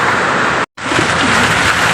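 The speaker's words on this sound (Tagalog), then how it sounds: "Malakas ang ulan." Heavy rain falls during a storm with strong wind, a dense, loud, steady hiss broken by one abrupt moment of silence before the downpour noise resumes.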